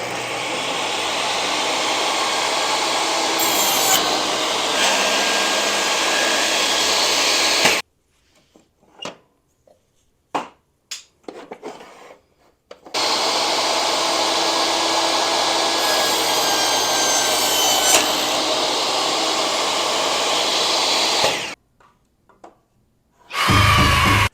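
A table saw slices through wood stock, roaring loudly up close in two long sustained cuts separated by quiet gaps with faint knocks and clatter, then a brief final burst.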